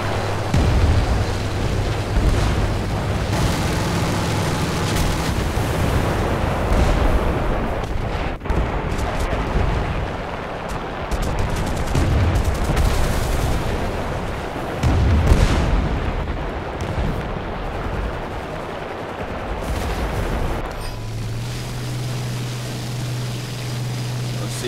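20mm cannon fire in War Thunder comes as rapid, dense bursts of booming shots, loud and sustained through most of the stretch, then drops away near the end.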